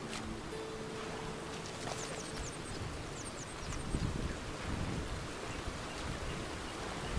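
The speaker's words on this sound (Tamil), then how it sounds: "ஸோ மழை பெய்யுது ப்ரோ." Rain falls steadily in the video game Red Dead Redemption 2, a dense continuous hiss with gusts of wind and occasional faint background sounds, with no talking.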